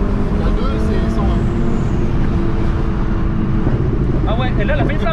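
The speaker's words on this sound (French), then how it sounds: "le bruit de la dump valve, c'est assez incroyable" A tuned Seat Ibiza Cupra Stage 2+ engine drones loudly and steadily inside the car, with a dump valve chatter fluttering near the end over constant road and cabin noise.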